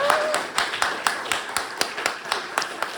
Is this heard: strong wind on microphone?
no